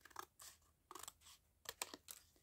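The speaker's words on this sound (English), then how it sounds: "So I'm trimming off those little cuts." Scissors trimming a cardboard box, several close, crisp snips in short clusters, quiet and with no talk.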